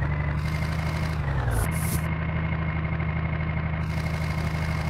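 Mahindra tractor engine in an Indian tractor video game, a steady low idling drone that dips briefly in pitch midway before settling back, loud and continuous throughout with no talk.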